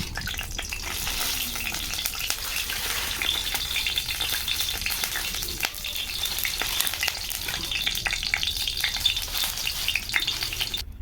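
Fish frying in hot oil with turmeric and chili powder, a dense, steady crackling sizzle that runs loud and unbroken for about eleven seconds, close by.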